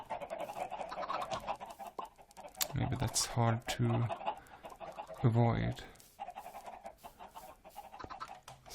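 Chickens cluck in a pen in a Minecraft-style video game, two short bursts of clucking with keyboard clicks, and a voice speaks between them.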